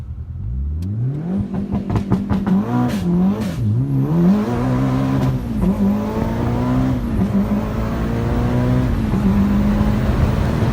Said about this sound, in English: this also has wide open throttle shifting, so it's a no lift shift, so I don't have to lift off the gas